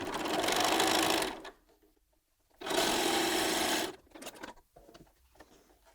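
A sewing machine stitching quilt fabric pieces together, running in two loud sustained whirring bursts separated by a quiet pause, followed by softer handling clicks.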